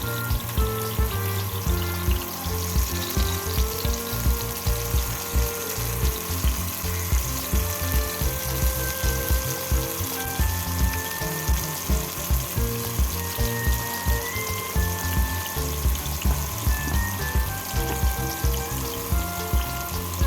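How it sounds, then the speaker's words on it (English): Prawns shallow fry in hot oil over a medium flame, a loud, dense, continuous sizzle with rhythmic crackling pulses running the whole way through. "Shallow fry the prawns on medium flame."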